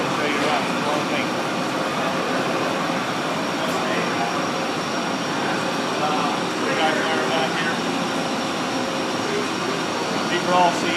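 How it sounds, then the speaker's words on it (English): CNC lathes and milling machines run in a machine shop, producing a steady broadband mechanical hum and whir. The sound is continuous and even throughout, with faint voices in the background. "These are all CNC lathes, milling capabilities, turning capabilities."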